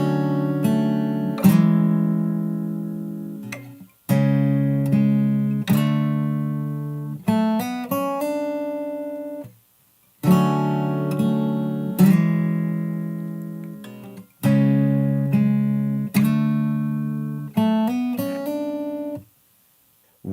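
Fingerstyle guitar plays the intro of a song, a repeating phrase of plucked chords and melody notes with brief pauses between sections, clear and close with no talking.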